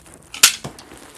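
A toy gun fires once with a sharp snap and a faint follow-up knock, close and brief against a quiet room.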